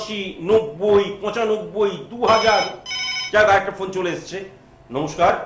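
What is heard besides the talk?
telephone ringing, incoming call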